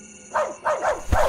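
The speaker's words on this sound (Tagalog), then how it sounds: "Ang ingay ng aso sa labas." Several dog barks ring out at night outside a house in a rural village in Negros, coming in three or four loud, separated bursts with no talk.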